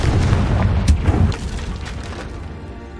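A Confringo blast spell goes off in Hogwarts Legacy as a deep, booming explosion with a burst at the start. Its low rumble rolls on and slowly fades over the next few seconds.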